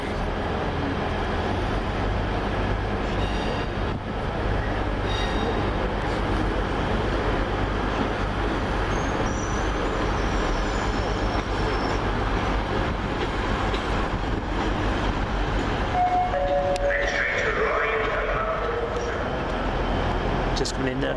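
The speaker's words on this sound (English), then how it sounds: "It's coming in to terminate off Bridlington." Class 158 unit 158 902 rolls into Bridlington to terminate, a steady loud rumble of the train filling the whole stretch, with a faint squeal of brakes near the end and no clear talk.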